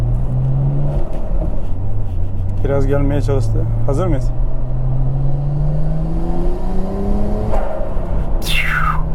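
A Nissan Skyline R34 GT-R engine accelerates from inside the car, its rising drone climbing steadily and loudly, with people talking over it partway through.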